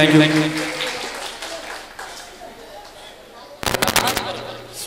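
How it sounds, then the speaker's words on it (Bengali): A brief burst of clapping from an audience at a stage dance performance during an opera event breaks out near the end, following amplified announcer talk over a public address system. "জোর করে একটা হাততালি চাইবো সবার কাছে"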